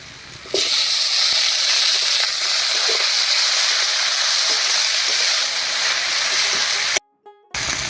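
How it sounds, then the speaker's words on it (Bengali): Chopped tomato drops into frying onions and dried red chillies, setting off a loud, steady sizzle that runs close and constant before cutting out abruptly near the end. "এবার এর মধ্যে দিব একটা টমেটো কুচি"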